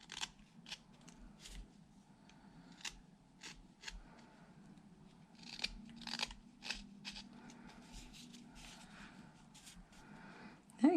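A small whittling knife shaving a wooden heart shape, producing scattered short scraping and snicking cuts, close and quiet, with irregular pauses between strokes.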